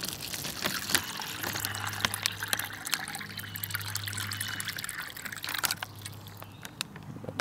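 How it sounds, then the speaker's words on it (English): Twelve ounces of water poured into a hot beverage bag for an MRE Beef Patty meal, a continuous close trickling pour with faint clicks and rustles of the bag, no voices. "Put the 12 ounces of water in here."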